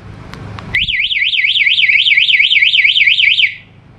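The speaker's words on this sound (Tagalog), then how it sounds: "Alarm." A two-way alarm system on an Easyride 150N Motorstar motorcycle blares a loud, rapidly warbling siren tone that cycles steadily for about three seconds before cutting off, preceded by a few faint clicks.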